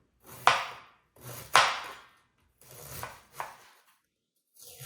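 Knife slicing cabbage thin for corned beef, cabbage and potato soup: four crisp chopping strokes on a board, two loud then two softer, evenly spaced, with no talking.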